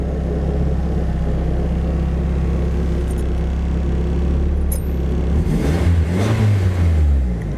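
A Nissan Sileighty demo car with a full custom N-Stage exhaust idles with a deep, steady rumble, then revs up and drops back, loud and close.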